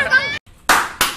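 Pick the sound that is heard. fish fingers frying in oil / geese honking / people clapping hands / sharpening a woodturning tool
people clapping hands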